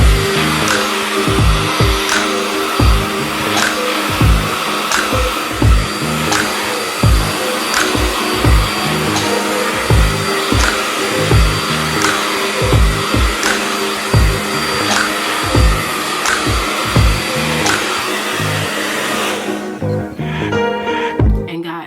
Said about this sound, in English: So I hold it taut like this when I'm blow drying the roots.